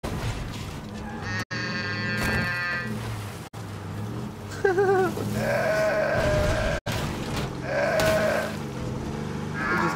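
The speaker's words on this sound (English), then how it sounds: "It just makes sheep noises." A video game car horn makes repeated sheep-like bleats, several wavering calls over a low rumbling engine, with abrupt cuts and a game-like background, in State of Decay 2.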